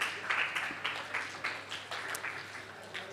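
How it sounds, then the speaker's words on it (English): Audience applause at a national F1 in Schools final for the Red Foxes team from the ADNOC School, a steady crowd clapping that swells in several uneven waves over a few seconds. "Big, big round of applause for the Red Foxes."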